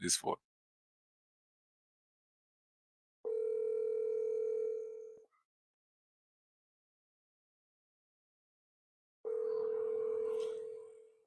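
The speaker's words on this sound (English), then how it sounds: "I'm making a phone call." Telephone ringback tone while placing a call, two long steady electronic tones separated by several seconds of silence, clear and moderately loud.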